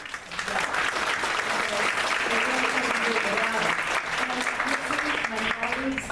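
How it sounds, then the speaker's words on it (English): Sustained audience applause at a school board of education meeting, steady dense clapping for a teacher with some voices murmuring underneath throughout. "So I think we need to give him a round of applause."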